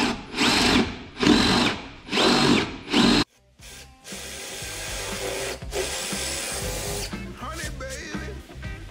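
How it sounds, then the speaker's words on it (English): Power drill boring holes through plywood while building catamaran anchor rollers: three loud, even bursts of whirring drilling with short pauses, then quieter handling and workshop clatter. "before drilling again."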